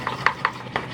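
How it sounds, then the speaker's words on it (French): A utensil knocks through breadcrumb batter for a copycat KFC chicken fillet, four or five quick soft taps against a bowl in an uneven rhythm, close and moderately quiet. "on mélange bien, on évite du grumeau."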